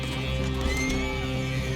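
A horse neighs and whinnies in Red Dead Redemption 2, a loud, drawn-out call over steady game ambience with faint hoof clip-clops beneath, no talk.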